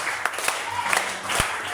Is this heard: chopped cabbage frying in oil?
no